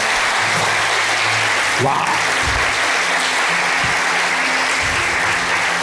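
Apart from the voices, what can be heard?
audience applause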